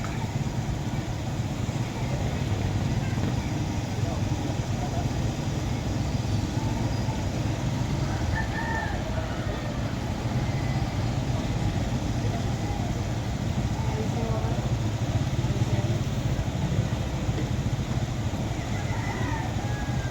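Tow truck with a boom hauling up a fallen car, a steady low engine drone running continuously for the whole stretch, with someone speaking over it.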